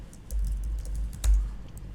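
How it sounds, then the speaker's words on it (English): Steady rapid keystrokes on a computer keyboard close by, an uneven rhythm of light clicks with one slightly heavier tap, no voices. "if I can type correctly"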